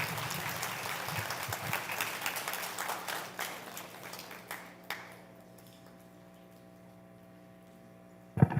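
A room at an academic colloquium breaks into clapping, a fairly soft even patter that dwindles away after about five seconds, leaving a faint hum with a bump at the end.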